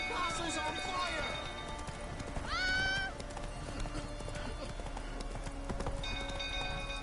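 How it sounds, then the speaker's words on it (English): Horse hooves clip-clop at a gallop in a video game, with a rising whinny partway through, over busy game sound effects and music while a voice speaks. "Whoa there, Roach"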